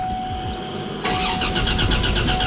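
A Buick Grand National engine with an exhaust leak cranks and fires about a second in, settling into a loud, close, rough idle with rapid pulsing puffs from the leaking exhaust.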